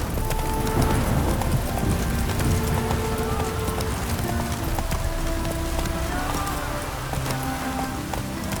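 Roach, Geralt's horse in the video game The Witcher 3: Wild Hunt, gallops with steady rapid clip-clop hoofbeats that run continuously and loudly, alongside a faint rain-like hiss.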